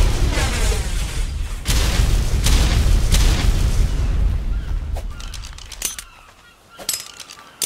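Grenade blasts during a base raid in ARK: Survival Evolved, heavy booming rumble that fills the first five seconds, then sharper scattered impacts and cracks afterward, loud and close.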